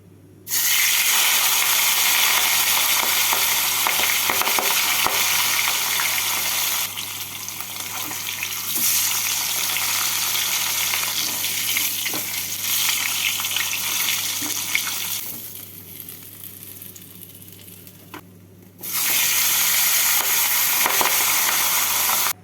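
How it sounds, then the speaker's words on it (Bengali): Fish heads sizzle loudly in hot mustard oil in a kadai on a gas stove, a steady frying crackle that softens midway, drops out briefly near the end, then surges back. No one speaks. "তেলটাকে গরম করে নিয়ে মাছের মাথা দুটোকে লাল করে ভেজে নেব"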